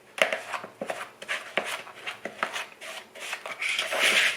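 A spoon scrapes and knocks through brown sugar lumps in a bowl while mixing, a run of close, irregular clicking and scraping strokes at a steady pace.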